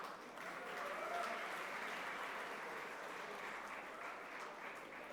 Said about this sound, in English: That alone should give him a round of applause.